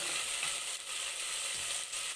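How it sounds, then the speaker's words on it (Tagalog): Garlic and onion sauté in a hot pan with a steady, close, bright sizzle that runs without a break for the whole moment. "mag-isa ako ng bawang sibuyas"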